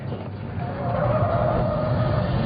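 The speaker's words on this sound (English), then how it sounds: "that was a hot lap in the 2008 Mugen SI sedan" A 2008 Mugen Civic Si sedan on a hot lap around a track, its engine droning steadily and loudly with a rising tonal whine as it accelerates, tire noise underneath.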